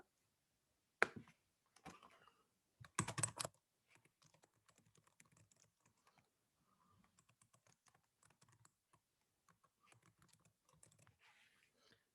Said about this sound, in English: you type your message.